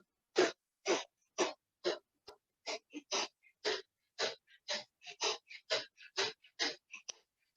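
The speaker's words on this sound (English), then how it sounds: "Release that breath of fire." Breath of fire yoga breathing: a steady train of about twenty quick, forceful nasal exhales in an even rhythm, close and clear with no talk over it.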